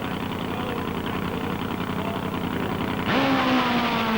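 Brian Johnson's 1991 top fuel drag motorcycle runs at a track, its engine a dense, loud roar that holds steady, then surges louder with a rising whine near the end.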